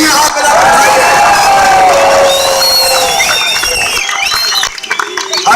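A large outdoor rally crowd at Jantar Mantar claps and cheers loudly, with whoops, shouts and whistles over sustained applause, the roar dipping and turning ragged near the end.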